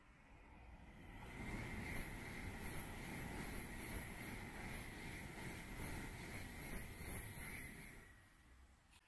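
A Japanese bullet train rushes past at Fukuroi with a swelling whoosh of wind and rumble that builds, holds, then fades away; heard from a distance, no talking.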